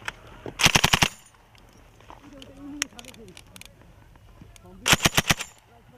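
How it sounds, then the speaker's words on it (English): Automatic gunfire from soldiers' weapons during a military training exercise, two close, loud rapid bursts of several rounds each, separated by a quieter gap with faint voices and scattered distant shots. "Okay, keep on firing."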